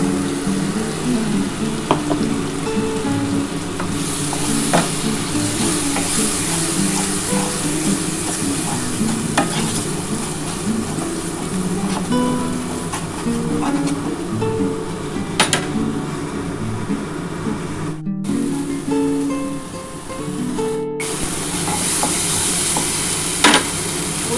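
Spices added to lightly fried onions sizzle steadily in a pan for a duck egg korma, with a spatula stirring and occasionally clinking against metal, continuous and close.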